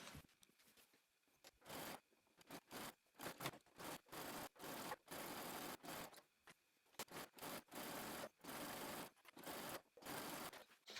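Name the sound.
sewing machine top stitching skort hem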